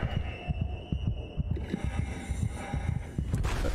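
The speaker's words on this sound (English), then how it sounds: "maybe we are human, because we have a heartbeat" A steady, throbbing heartbeat from the sci-fi horror game Soma, thumping in a regular double-beat rhythm, close and low, over a dark ambient hum with no talking.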